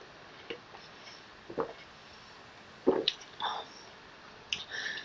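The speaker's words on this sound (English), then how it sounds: "I just need to drink some water" Someone drinking water close by: soft wet gulps and swallowing squishes, a few irregular sips spread over several seconds in a quiet room.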